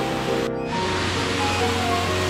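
A curtain-like waterfall in a park makes a continuous close roar of rushing, splashing water, steady and loud for the whole couple of seconds, with a brief dip near the start.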